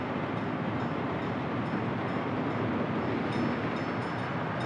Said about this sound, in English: there should be another train getting here pretty soon